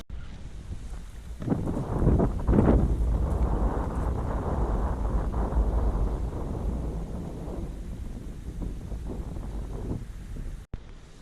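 Strong wind buffets the microphone outdoors in nature while a Coleman 533 Dual Fuel stove is tested, rumbling in low gusts that swell and ease over several seconds, with no voices.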